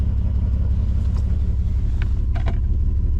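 An old Mercedes-Benz car idles with a steady low engine rumble up close as it begins rolling in reverse, with a few faint clicks and knocks over the drone.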